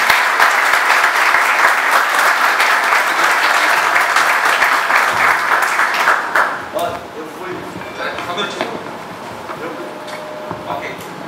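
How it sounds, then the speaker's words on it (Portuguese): An indoor audience at a press gathering in Cabo Frio gives the vice-mayor a round of applause that fades after about six seconds, leaving scattered room noise and a voice. "Magdala, minha vice-prefeita, uma salva de palmas para ela"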